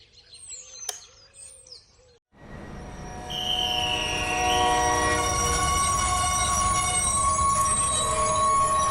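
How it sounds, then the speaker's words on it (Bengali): Cartoon sound effect of a Bongaon-bound train arriving at Gobardanga railway station: after a short quieter stretch with birdsong, a loud sustained rumble with a horn and squealing wheels takes over and continues. "বনগাগামী ট্রেন এসে দাঁড়ালো গোবরডাঙ্গা স্টেশনে।"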